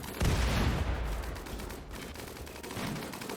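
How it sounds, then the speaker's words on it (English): Mortars and gunfire erupt during a raid in the RimWorld video game, a loud, dense barrage of overlapping booms and shots that rumbles on without a break and with no voices. "there goes the mortars."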